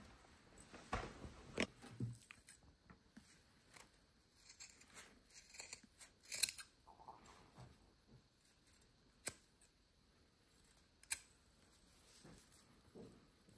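Scissors snip through the bottom loops of a paper yarn tassel in a series of sharp, close, quiet cuts with gaps between them, and no talking.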